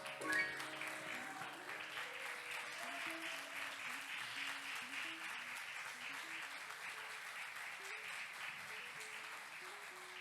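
Church congregation applauding during a Sunday morning service, a steady wash of clapping that carries on throughout with sustained tones beneath it.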